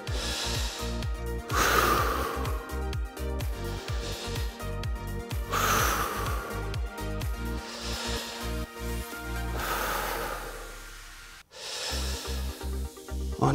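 Rhythmic heavy breathing during an at-home ab workout, repeated forceful exhales and inhales rising and falling over a steady background beat, close and fairly loud.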